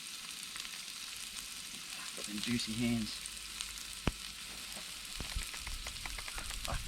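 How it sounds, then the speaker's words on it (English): Onions and minced garlic sizzle steadily in a red-hot frying pan at an outdoor riverside cook-up for pasta. A quiet hiss runs throughout with a few clinks, and someone speaks briefly over it. "get a nice sizzle on them onions now."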